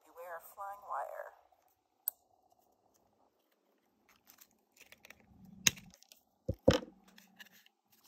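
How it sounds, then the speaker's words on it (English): Scissors trim small pieces of wire on a craft cloche kit, making a few sharp, quiet snips in quick succession after a brief stretch of talking and near-silence. "I'm just going to go ahead and use my scissors and give those a little trim back"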